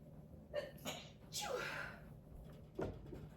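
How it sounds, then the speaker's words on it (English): A few quick inhales build up, then a sharp sneeze erupts close to the mic, followed by a softer breath. "Oh, I'm gonna sneeze."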